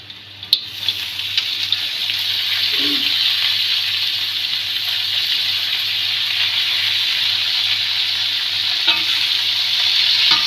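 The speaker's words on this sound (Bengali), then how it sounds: "আমি এর ভিতরে এখন লাল শাক দিয়ে দেবো" Red amaranth leaves fry in oil over browned onion and garlic, giving a loud, steady, close hiss that runs unbroken throughout, with a few faint clinks near the start.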